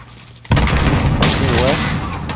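Gunfire in a Modern Warfare Search and Destroy match starts abruptly with a loud boom, followed by sustained rapid firing and ringing echoes for about two seconds, with a brief whooshing sweep in the middle.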